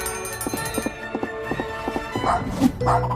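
A small dog or puppy in a cartoon barks in a quick series of short yips over a steady musical backing, followed by a couple of louder, sharper sounds near the end.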